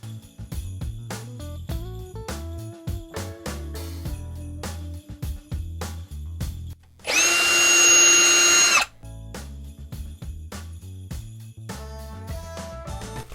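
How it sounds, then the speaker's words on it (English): A drill whirs briefly for under two seconds, loud and close, in the middle of soft background music. "I will be using my drill to make 2 more holes on the opposite"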